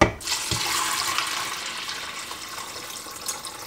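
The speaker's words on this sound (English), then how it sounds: "And then I'm going to put some water over them." Water pours steadily from a tap or jug over soup beans in an Instant Pot, a loud, continuous, hissing splash that runs unbroken from start to finish, with no talking.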